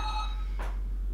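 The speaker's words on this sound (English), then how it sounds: "Phone's ringing." A telephone rings with a bright, steady electronic tone for about a third of a second, then stops; a brief rustle or breath follows over low background hum.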